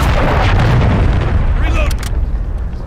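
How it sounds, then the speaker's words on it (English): A stun grenade goes off in Call of Duty Modern Warfare 3 as a loud, heavy rumbling blast that fills the clip, then thins into brief high ringing tones near the end. "Throwing a stun grenade!"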